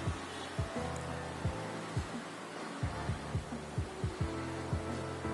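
An electric blower fan on a temperature-controlled panel runs with a steady hum and a regular, throbbing pulse repeating roughly twice a second, close and even throughout.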